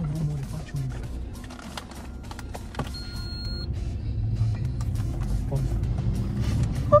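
A car engine rumbles low and gradually grows louder, with scattered clicks and faint mechanical noises over it.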